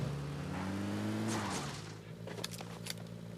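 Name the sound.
vehicle driving in the video game PUBG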